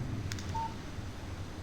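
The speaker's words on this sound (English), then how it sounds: "Text message from Barry" A short electronic text message alert tone from a phone in the Alan Wake video game, a single brief beep heard clearly over a low ambient game background hum.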